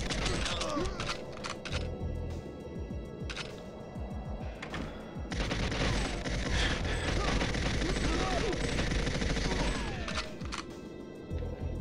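Gunfire from two guns at once in Goldeneye 007, XBLA HD remaster: rapid, dense bursts of shots and crashing impacts fill the whole stretch, loud and continuous, with brief pauses early on.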